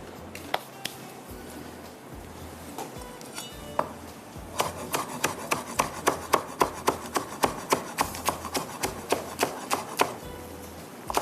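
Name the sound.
finely chopping green onion, capsicum and coriander with knife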